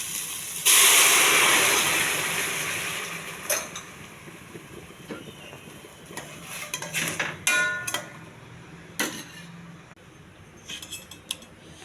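Ginger garlic paste hits a hot pan with a loud burst of sizzling that gradually settles into a softer hiss, broken by scattered clinks and scrapes of a utensil against the pan.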